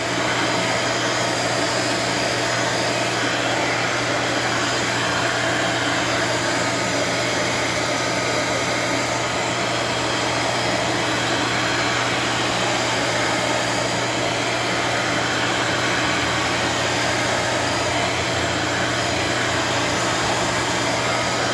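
Chicago Electric heat gun blowing hot air in a steady, unbroken whirring hiss, close and constant, with a low motor hum underneath.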